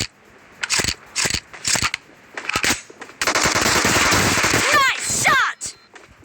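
Rapid shotgun blasts from an M1014 in a Battlegrounds Mobile India arena match crack out in bursts, then a dense sustained stretch of gunfire with metallic clatter, loud and close.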